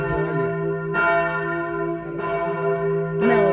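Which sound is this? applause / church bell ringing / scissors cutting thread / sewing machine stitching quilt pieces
church bell ringing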